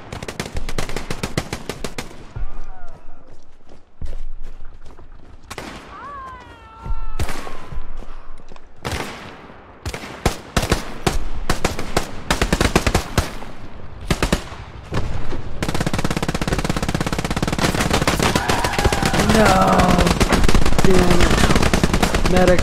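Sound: machine gun fire in Hell Let Loose video game

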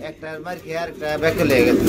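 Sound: pigeons cooing

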